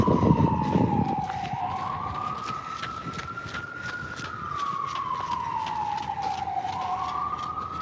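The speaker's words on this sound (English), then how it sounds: "you hear a police siren in the background, in the distance" A police siren wails in the distance near Central Park's Bethesda Terrace in New York City, its tone sweeping slowly up and down steadily over the park's ambient hum.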